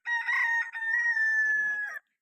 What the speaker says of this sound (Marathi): तिथे कोंबडा आरवते